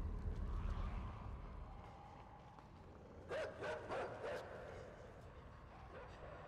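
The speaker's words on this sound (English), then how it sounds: "I hope those are dogs, not people." Dogs bark in a video game, a short cluster of several yaps in the middle, moderately loud over a steady low rumbling game background.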